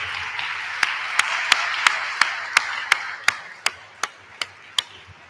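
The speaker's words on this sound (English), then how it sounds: "give our parents a round of applause for everything that they've done" Audience applause for parents at a Malden Catholic girls division awards ceremony: a soft, wash-like bed of clapping punctuated by sharp, evenly spaced claps landing about three times a second.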